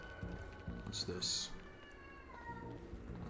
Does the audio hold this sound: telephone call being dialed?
no